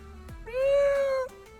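A person imitates a cat with a single loud, sustained meow, clear and close, preceded and followed by brief faint background noise at an outdoor show.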